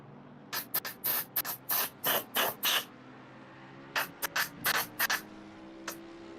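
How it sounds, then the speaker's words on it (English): A sim racing pedal is sprayed in repeated short, hissing bursts, a quick cluster of spurts followed by a pause and then another series of squirts, close and clear with no talking. "Might hear some squirty noise in a minute because I'm spraying my pedal."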